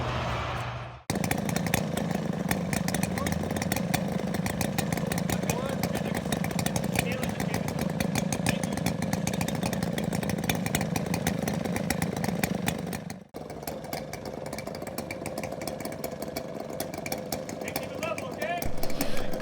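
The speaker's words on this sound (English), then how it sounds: "I turned down the volume for the chainsaw a bit, so you can hear me" A chainsaw on an Alaskan mill cuts a big log, running loudly and continuously at high revs, briefly dropping out twice, with a buzzing, rasping drone throughout.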